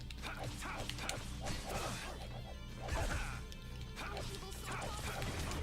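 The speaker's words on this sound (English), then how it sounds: "Dog senses something." In the video game Tales of Vesperia, a dog barks a few times amid busy battle sounds of hits and crashes, with voices speaking over the action.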